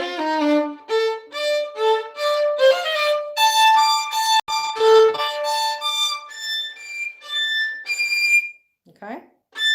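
Clear, pure, whistle-like violin harmonics held one after another, jumping between paired pitches an octave apart, with a brief pause near the end.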